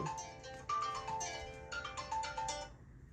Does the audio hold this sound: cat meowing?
no